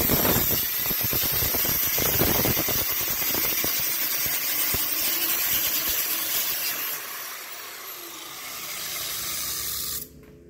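A cutting wheel slices through hardware cloth for an aviary build, giving a harsh, continuous grinding hiss with rapid crackling ticks that thins out and stops abruptly near the end.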